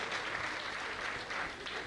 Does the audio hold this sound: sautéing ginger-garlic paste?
no